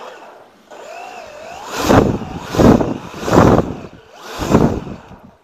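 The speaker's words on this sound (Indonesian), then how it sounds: "Ini kita jajal lagi yang motor 1800 ini guys." An 1800 kV brushless RC motor driven by a homemade phone-battery pack spins up in four sharp, loud whining surges at a steady rhythm over a faint hum, close by and with no talk.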